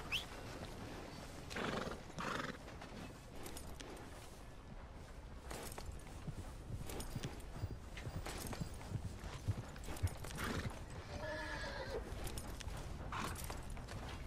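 Steady clip-clop of horse hooves walking in the video game Red Dead Redemption 2, with a horse whinnying a couple of times along the way.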